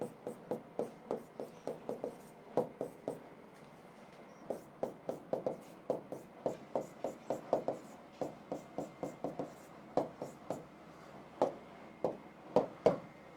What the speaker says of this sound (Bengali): আমি আর একটা উদাহরণ লিখি